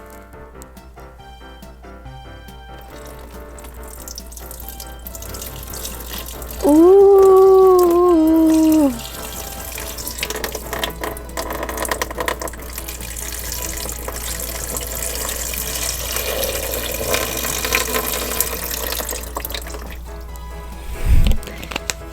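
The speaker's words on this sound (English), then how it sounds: "Now let's put some water in there." Water runs from a tap into a sink holding toy figures, a steady rushing flow that builds through the clip, with a brief vocal exclamation partway through.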